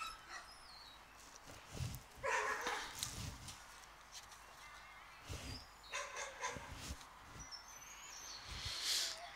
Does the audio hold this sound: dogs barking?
yes